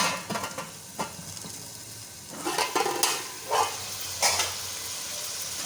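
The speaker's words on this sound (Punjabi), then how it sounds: "ਆ ਦੇਖੋ ਹੁਣ ਅਸੀਂ ਇਹਨੂੰ ਹਿਲਾ ਕੇ ਨਾ" Potato rice pulao is stirred in a pot, giving soft scraping and clanking sounds in scattered bursts over a faint low sizzle, close by.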